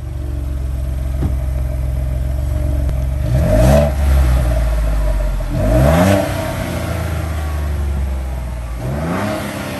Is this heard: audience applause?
no